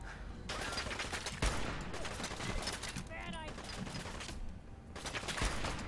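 Continuous gunfire and explosions from the Fallout 4 video game crackle throughout, dense rapid shots with a few louder cracks over a busy background.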